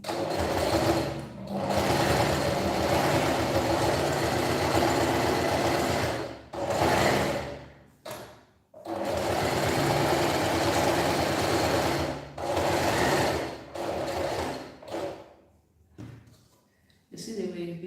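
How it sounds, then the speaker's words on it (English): A sewing machine hems fabric half an inch inward, running in long loud bursts broken by short stops, with the rhythmic mechanical whir dominating throughout. "you see the way it's being hemmed"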